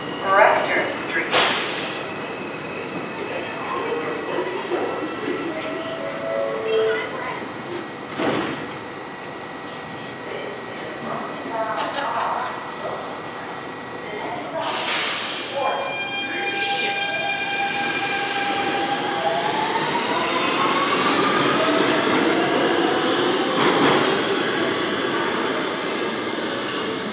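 An eastbound New York City subway R train rumbles steadily through the tunnel, with sharp squeals and clanks, then a rising electric motor whine as it gathers speed, loud and close throughout.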